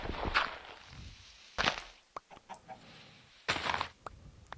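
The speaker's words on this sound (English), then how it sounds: "Hi, chicken." Minecraft chicken clucks in a dark forest, several short bursts with soft footstep-like taps between them, fairly quiet and with no talking.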